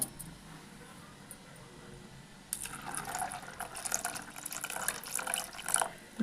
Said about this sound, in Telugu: దీనికి ఎంత సమానం ఉందో అంతే క్వాంటిటీ వాటర్ పోసుకోవాలి.